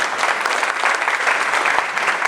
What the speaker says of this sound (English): So hats off and applause for doing that, all of you gentlemen and ladies here.